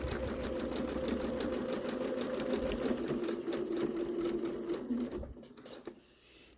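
A sewing machine stitches the binding on a small self-binding doll quilt, running in a steady, fast, close mechanical whir for about five seconds before slowing and stopping, with no talking.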